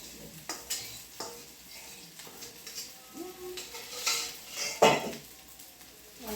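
Cold leftover rice is stirred in a pan with vegetables and egg for fried rice, the spatula scraping and clinking against the metal in irregular strokes over a faint sizzle.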